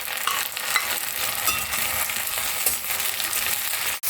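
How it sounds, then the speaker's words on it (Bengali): Chopped tomatoes stirred into frying onions in a pan for a Bengali aloo chickpea masala, giving a steady close sizzle with scraping spoon strokes throughout, no talking. "টমেটোটা দিয়ে একটু নাড়াচাড়া করবো।"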